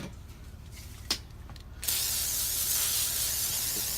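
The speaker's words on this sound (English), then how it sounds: "we'll hit them with a WD-40 there." WD-40 sprayed onto metal parts of a vintage Kmart P-23 box fan, a few faint clicks and handling sounds followed by a sudden, steady, close aerosol hiss that continues to the end.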